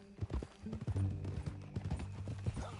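Horse hooves clip-clopping at a steady walking rhythm in Red Dead Redemption 2, close and clear, with a brief low snort among the steps and occasional game sounds.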